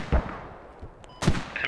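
Two sharp, close gunshot cracks from enemy fire in the military video game Squad, separated by about a second, over quiet battlefield ambience.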